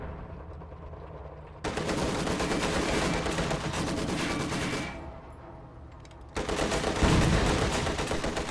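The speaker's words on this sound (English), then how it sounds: "Taking machine gun fire!" Sustained machine gun fire roars through a video game tank battle, loud and continuous bursts with brief dips in intensity, no voices.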